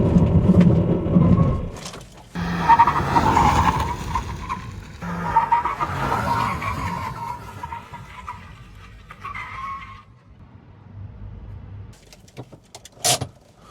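A CNG SUV with traction control off brakes hard from 100 km/h: a loud engine roar and rushing road noise fade into tyre scrub as it slows, ending in near quiet with a sharp click.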